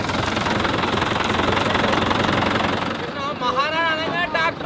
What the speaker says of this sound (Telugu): స్పెషల్ గా ఒక ట్రాక్టర్ వస్తుంది బ్యాక్ సైడ్